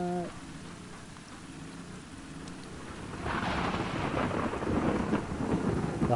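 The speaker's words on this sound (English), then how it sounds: "I guess that's thunder, not lightning" Thunder and rain in The Last of Us Part 2, a low rolling rumble that swells midway into heavier downpour, with a brief voice at the very start.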